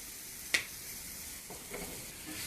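Mushrooms frying in oil in a pan make a steady sizzle, broken once by a sharp click or tap and later by a few soft clinks, as if a utensil is working the pan.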